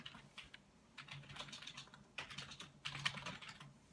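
Entering text into spreadsheet cells on a computer keyboard in a class, giving quiet, close clusters of quick key clicks in irregular bursts separated by short pauses, with no speech.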